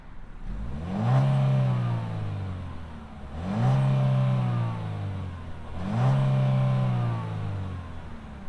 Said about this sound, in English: let's fire up this Equinox Activ and see it roll